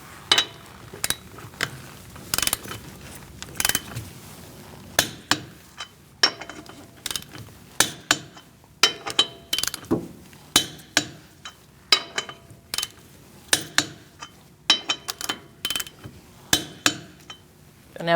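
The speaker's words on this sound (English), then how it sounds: "Using a 19mm socket, we're going to torque our wheels to 100 foot-pounds." A 19mm socket on a ratchet or torque wrench tightens the wheel lug nuts of a 2016-2019 Chevrolet Cruze 1.4L, giving repeated sharp metallic clicks and ratcheting bursts in short groups, close and clear with no talking.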